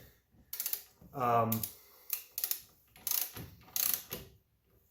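Wrench clicks while the head bolts are tightened in a crisscross pattern on a Tecumseh snowblower engine, with short bursts of ratcheting over about five seconds and someone talking between them.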